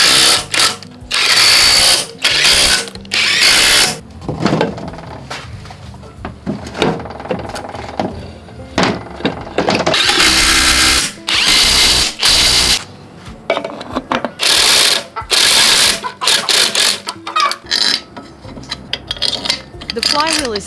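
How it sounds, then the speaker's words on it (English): Bolts being tightened onto the crankshaft flywheel of an old Daewoo engine give off loud ratcheting bursts and metallic clicks in irregular runs. No voices accompany them. "The flywheel is tightened to the crankshaft in a cross pattern, with clean threads and the correct thread locking compound."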